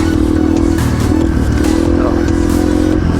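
A Yamaha TTR 230 dirt bike rides through desert terrain, its engine droning loud and close with a steady low thrum and rattling clatter, no pause across the short stretch.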